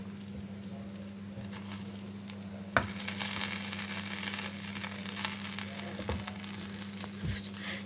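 Pulao being mixed in a pot at night, with soft scraping stirs and a faint steady sizzle, plus a few sharper clanks of the spoon against the pot.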